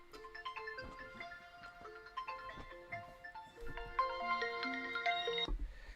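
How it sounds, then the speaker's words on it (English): A phone ringing with a bright, repeating melodic ringtone, steady and fairly clear through the whole stretch, with a fuller burst of tones toward the end. "Oh, the phone."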